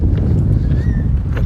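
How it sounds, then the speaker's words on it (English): Strong wind blows on a beach, a dense, continuous low rumble of buffeting against the microphone with faint higher whistles over it. "It's too windy."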